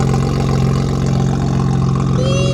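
Loud BMW M3 F80 engine idling, a deep steady rumbling drone with a pulsing low throb, close and constant for a few seconds before cutting off.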